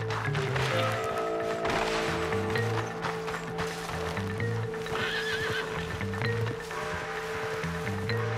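In the video game Red Dead Redemption 2, a horse whinnies loudly while hooves clip-clop in a steady rhythm under a dense bed of game ambience and music.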